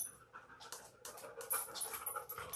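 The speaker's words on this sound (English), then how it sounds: "She's playing fetch at the park with Charlotte, so she's breathing heavy." A dog pants heavily and rapidly after playing fetch at a park, a steady breathy rhythm captured close but fairly faint.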